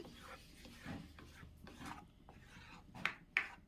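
A spoon scrapes and stirs matar paneer masala curry in a pan in soft, irregular rasping strokes, close and quiet, with two sharper clinks near the end.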